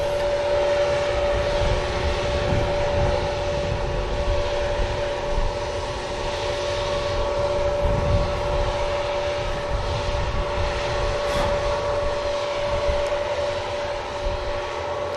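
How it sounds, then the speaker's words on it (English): An Aer Lingus A320 pushes back at an airport for the return leg to Dublin, its engines giving a steady droning hum with a persistent whine, continuous and fairly distant. "we have the Aer Lingus 320 we saw arriving earlier as well on the return leg to Dublin"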